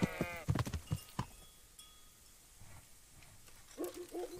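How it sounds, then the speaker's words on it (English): A lamb bleats in Kingdom Come: Deliverance, a few quavering calls up close at the start and another brief bleat near the end, with quiet ambience between. "a lamb?"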